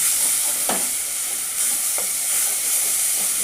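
Masala for a cauliflower and potato curry frying in a pan as a little sugar is stirred in, giving a loud, steady hiss of sizzling oil with a couple of brief spatula scrapes.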